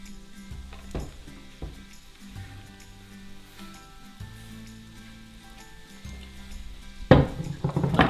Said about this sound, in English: I'm just going to give them a little shake just to coat them in that oil.